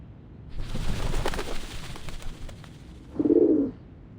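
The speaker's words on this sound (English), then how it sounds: "The doves of the Whitestone House are here." Doves coo in the video game Reverse: 1999 at the Whitestone House, a low mellow burst rising clearly over a busy game background of rumble and clatter.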